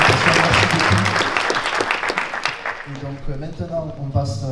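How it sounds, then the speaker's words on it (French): Audience applause at a public meeting on water and climate in Arreau, close clapping that tapers off while voices begin talking underneath. "on peut applaudir du coup"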